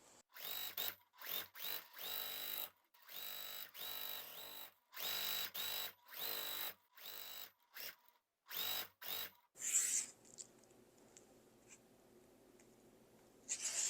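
A sewing machine stitching a piece onto a quilt block, running in quick bursts of rapid mechanical whirring with brief stops between, close and fairly quiet, ending in a soft low hum.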